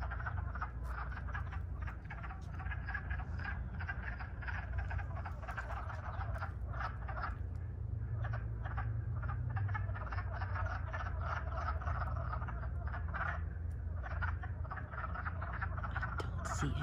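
Many frogs croaking together in a steady, crackling chorus, with rapid clicky calls overlapping on a low background rumble.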